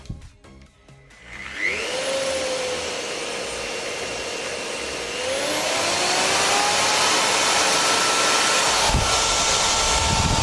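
A GTM MX-100/1600EM electric construction mixer starts up with a few clicks, then its motor winds up into a loud, close, steady whine that rises again as the speed is raised, with no talking over it.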